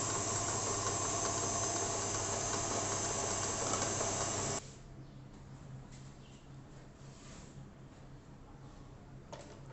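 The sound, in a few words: electric mixer beating banana walnut cake batter at slow speed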